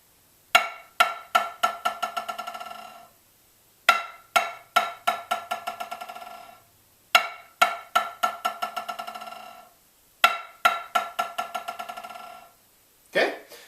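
Snare drum buzz rolls played with alternating hands, in four separate bursts of rapid buzzing strokes, each slowing and thinning out toward its end. A single final stroke follows. The drum is close and clear, with no talk.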